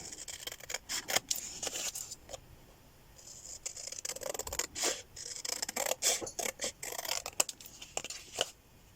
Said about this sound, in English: I'm only cutting a tag out